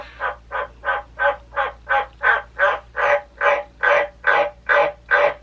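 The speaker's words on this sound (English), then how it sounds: "That is my frog." Frog croaking in a steady run of about fourteen evenly spaced, loud, close croaks, each a short raspy burst, with no other sound around them.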